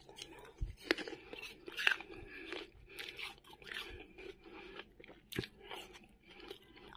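Boiled potato and mushroom varenyky dumplings being eaten at an evening meal, with soft crunchy chewing and bites close to the microphone and light scraping, faint talk in the background.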